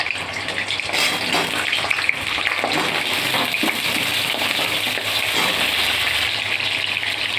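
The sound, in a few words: pointed gourd (potol) pieces frying in ghee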